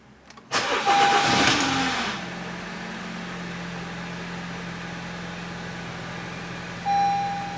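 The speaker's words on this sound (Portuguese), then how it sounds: "Não acredito que pegou de primeira." A Honda Civic engine cranks briefly and catches on the first try, then settles into a steady, close idle with a brief higher tone near the end.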